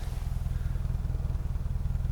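A 2003 Subaru Impreza WRX STi engine idles with a steady, throbbing low exhaust rumble, pulsing evenly and close by, with no voices.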